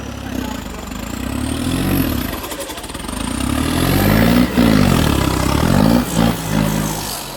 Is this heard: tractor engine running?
yes